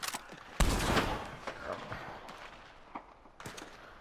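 Gunfire in the video game Red Dead Redemption 2, with a sharp shot, then scattered fainter shots and hoof-like clatter in the background, all fairly distant and quiet.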